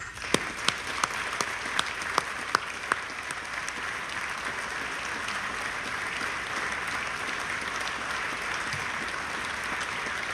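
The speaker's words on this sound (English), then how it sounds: "Please join me in a round of applause to show our deep appreciation for our state agency directors and our state employees." Applause from the audience at the Idaho governor's State of the State address for state agency directors and employees opens with a few sharp, prominent claps and then settles into sustained, even clapping for about ten seconds.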